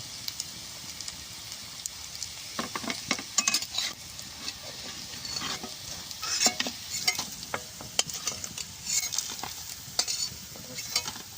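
Kochu flower fritters sizzle steadily in hot oil, a continuous bright crackle, with scattered scraping and clinking from a utensil stirring and lifting them from the pan.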